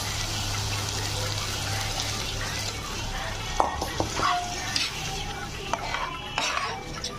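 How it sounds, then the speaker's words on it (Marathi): Water poured into a pan of cashew masala made with fresh tender cashews, a steady sizzle and frying hiss under a low hum, followed by a few sharp clinks and stirring knocks of a utensil against the pan. "आता याच्यात काजू शिजेल तेवढंच आपल्याला पाणी घालायचं आहे."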